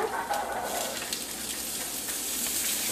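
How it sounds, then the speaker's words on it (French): Ground meat frying in a hot pan while pasta is improvised, giving a steady close sizzle and crackle with faint scraping, continuous for a few seconds with no talking. "Je peux maintenant ajouter la viande."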